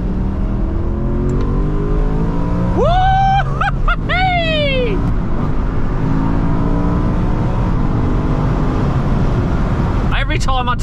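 A steady loud engine drone throughout, with a rising, whining rev that climbs and drops midway, then starts climbing again near the end.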